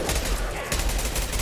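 Gunfire from a weapon in the video game Mass Effect 2, a continuous rapid volley of loud shots rattling without pause through the short span.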